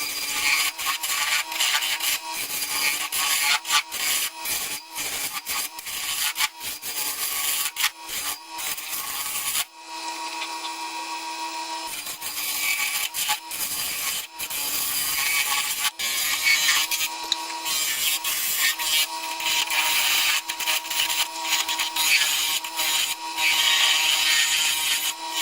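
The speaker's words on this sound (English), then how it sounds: "jump over and sharpen my chisel." A wood turning chisel is sharpened with a steady, loud abrasive grinding rasp that runs almost continuously, broken by a short pause midway.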